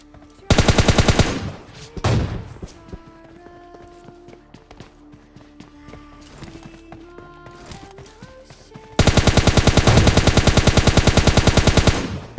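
Rapid bursts of automatic gunfire in the PUBG battle royale game, a loud dense volley at the start and another long sustained burst near the end, with quieter in-game ambience and scattered effects between them.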